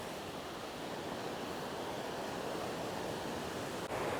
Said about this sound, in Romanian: doar că valurile din ocean îl împing un pic înapoi